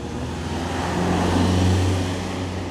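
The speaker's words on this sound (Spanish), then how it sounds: "Esperemos que pase un coche." A car passes on a street, its tire and engine noise swelling to a peak and then fading away. Steady background traffic hum continues throughout, with no talking.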